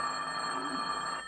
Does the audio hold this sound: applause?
no